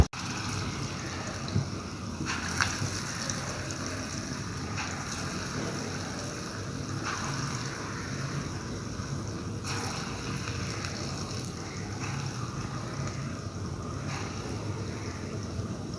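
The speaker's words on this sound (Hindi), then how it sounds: "ये मंगोची हम तल रहे हैं।" Moong dal mangochi dumplings frying in hot oil in a pan, a steady close sizzle and bubbling hiss that holds throughout with small pops.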